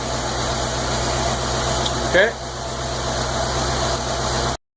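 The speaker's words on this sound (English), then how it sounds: "we're on a little bit of a fast idle because it was a cold start, and that's what she sounds like" A stock LS6 car engine fast-idles after a cold start, steady with a low rumbling drone, up close, broken by a brief squeak partway through before cutting off abruptly.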